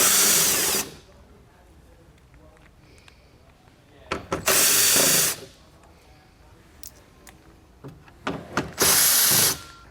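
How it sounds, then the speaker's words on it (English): A power tool with a 10mm socket spins out bolts from the hood trim of a 2020 Chevrolet Sonic, three loud whirring bursts of about a second each, separated by quiet pauses with small clicks and handling noises. "We're going to remove all the bolts with a 10mm socket."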